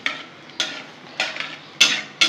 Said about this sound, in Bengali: ফোড়নটা একটু ভাজা করে নেব